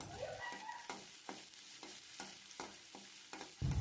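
Sliced onion, green chillies and curry leaves are stirred while frying in a pan: a steady sizzle under regular scraping strokes about every half second, close and alone, with no voices.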